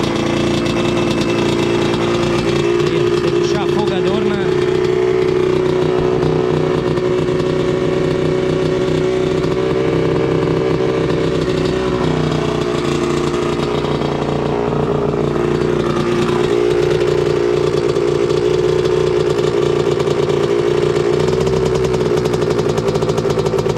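A Yamaha RD135 two-stroke motorcycle, cold and losing compression from a worn piston, runs steadily after a kick start, a loud close buzzing idle with occasional small rises in revs and no talk over it.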